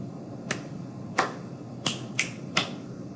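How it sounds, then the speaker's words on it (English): Five crisp finger snaps ring out in an uneven rhythm pattern as body percussion, close and sharp against a quiet room background, with no talk. "So now I'm going to do a few different rhythm patterns using the snapping, clapping, and then the patting"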